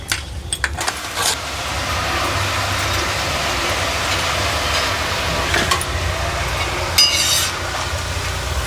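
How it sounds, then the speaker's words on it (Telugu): Urad dal murukulu deep frying in hot oil, giving a steady broadband hiss and crackle that holds evenly throughout, with a few sharper clinks and rustles near the start and toward the end, and no talking. "మంచిగా ఇట్లా అన్నీ డీప్ ఫ్రై చేసుకోవాలండి"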